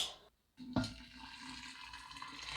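Boiling water is poured into a vessel for brewing kombucha tea, a close, continuous liquid splash and rush following a brief silence and a knock.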